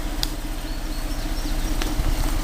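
A Ford Flex with a 3.5L EcoBoost engine, suffering repeated engine failure, idles with a steady low rumble that runs evenly throughout, plus a few faint clicks.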